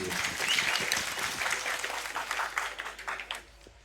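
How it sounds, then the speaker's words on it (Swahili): Crowd at a public speech by a government minister breaks into applause, a dense wash of clapping that swells early then thins and fades over a few seconds. "Makofi kwake Mheshimiwa Rais."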